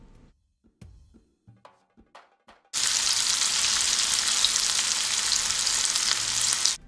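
Lamb chops hit hot oil with a sudden loud, steady sizzle that fills the rest, after a few sharp handling knocks and clatters, with no talking.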